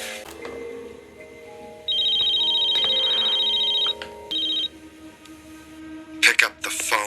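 A telephone rings in a scene from the TV show 24, a loud electronic trill that repeats and then cuts off, set among dialogue and background sounds from the drama, with a short burst of sharp noise near the end.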